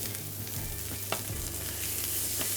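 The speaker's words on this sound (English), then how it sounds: "Listen to the sizzle, that's what you want to hear." Duck skin sizzles and crackles steadily in a hot pan up close, with a few sharp pops and spits over a low hum.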